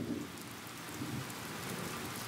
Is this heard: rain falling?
yes